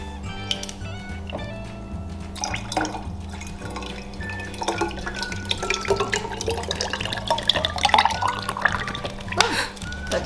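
Water trickles and drips into a container for a kids' lava lamp science experiment, with a light splashing pour that grows busier toward the end over a faint low hum.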